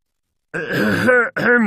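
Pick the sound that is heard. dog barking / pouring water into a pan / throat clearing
throat clearing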